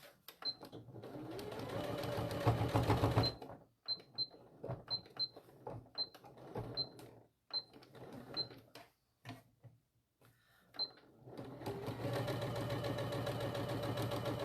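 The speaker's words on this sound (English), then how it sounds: "Sewing properly this time?" A sewing machine stitches a mini bag in several bursts, running steadily at the start, then in short stop-start runs, then steadily again to the end, close and fairly loud.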